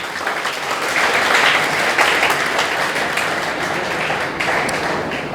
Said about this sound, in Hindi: चलिए तालियां बजती रहनी चाहिए